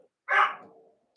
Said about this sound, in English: That's my dog, Dr. Disco